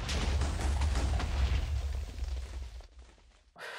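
A baby grenade made from a grenade casing and TNT blows up in Minecraft with the Calculator Mod, giving a loud, rumbling blast that fades over about three seconds before a short fresh burst of noise.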